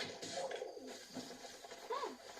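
A dove or pigeon-like bird in the video game Zelda Breath of the Wild gives soft repeated cooing calls against a steady background of ambient game sound.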